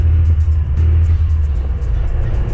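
Engine of a 1986 Volkswagen car while driving, a steady close low rumble that runs loud and unbroken from start to finish, with no talk.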